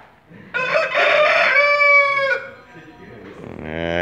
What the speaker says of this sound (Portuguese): Canta bonita aí, Zé, vai.